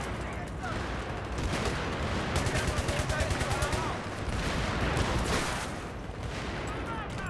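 Continuous gunfire and explosions from the video game Battlefield 3, dense overlapping bursts and rapid automatic fire with heavy booms, loud and sustained throughout.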